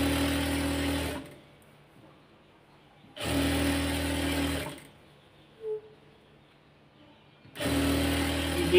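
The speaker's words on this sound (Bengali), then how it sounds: "সেলাই দিয়ে দিচ্ছি খুব সুন্দর করে।" A sewing machine stitches pyjama fabric in three separate bursts of steady, close mechanical whirring, each lasting one to two seconds with quiet pauses between them.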